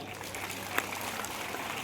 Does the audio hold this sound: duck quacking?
no